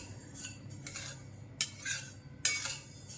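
A spoon scrapes and clinks against a pan as dal and rice are stirred while dry-roasting for homemade baby cereal. Soft swishes are broken by a few sharper metallic knocks, close and without speech.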